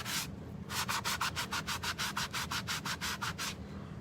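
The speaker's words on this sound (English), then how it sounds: "And the more you sand, the more it comes off." Rhythmic sanding of a painted wooden block, about fifteen quick back-and-forth rasping strokes in a steady rhythm, close up, after one short stroke at the start.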